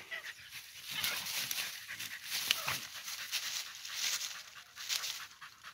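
A coon hunting dog pants steadily up close, quick rhythmic breaths repeating throughout with no voices.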